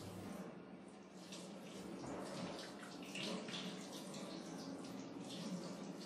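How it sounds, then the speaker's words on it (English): Tap water runs steadily into a sink while hands are rinsed during a surgical scrub, a continuous close splashing hiss with slight shifts as the hands move under the flow. "Hands must be rinsed thoroughly from fingertips to elbows."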